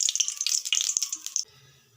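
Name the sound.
oil being poured into a hot wok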